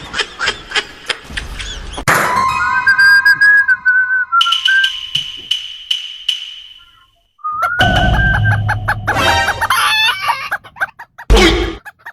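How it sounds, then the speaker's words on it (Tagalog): A rooster crows loudly nearby, a long wavering call, followed by a second crow after a pause, with whistling and clucking fowl around it. "Tumilaok na yung manok."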